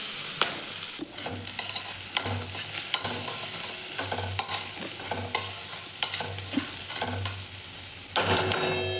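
Cumin and fenugreek thecha fry in hot oil in a kadhai, giving a continuous close sizzle with regular spoon scrapes and taps against the pan, and a brief louder burst at the end.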